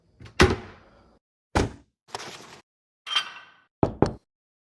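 A soft-close kitchen cabinet door with a broken hinge and a sprung-out spring, closed several times, each producing a hard wooden thunk or double knock, separated by short pauses and close to the listener.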